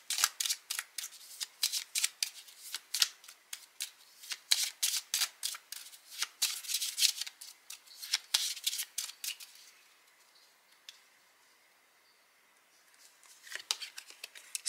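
A deck of tarot cards is shuffled in repeated crisp riffling bursts, fairly close and quiet, pausing briefly before the shuffling resumes; no voices.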